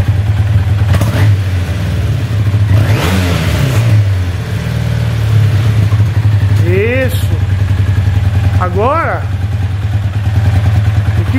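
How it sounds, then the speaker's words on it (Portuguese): A carbureted Yamaha Super Ténéré 750 motorcycle engine idling close by, giving a steady, even low rumble that runs the whole time while someone talks over it. "Olha a estabilidade, olha a lenta da moto."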